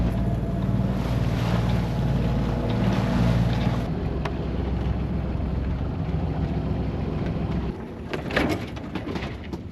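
A sailboat running under its motor off Anacapa Island in wind and a big swell: a steady low engine drone under heavy wind buffeting on the microphone and rushing water, continuous throughout.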